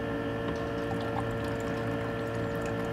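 Water poured over acid-washed cement silver to rinse it, a steady continuous splashing, close and fairly loud with no gaps, heard on its own.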